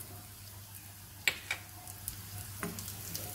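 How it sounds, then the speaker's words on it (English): Ginger and fried onion sizzle in a teaspoon of hot ghee, a soft steady fry with a few sharp spatters and clicks of a utensil, close and fairly quiet with no talking. "I have heated just 1 teaspoon of ghee, and now I'll be adding my ginger, and then some fried onion."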